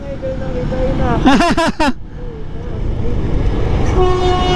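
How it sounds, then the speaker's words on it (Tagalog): A loud train horn blares in three short bursts with a wavering pitch, over steady rumbling background noise, followed by a continuing low hum. "Lakas bumusina, oh."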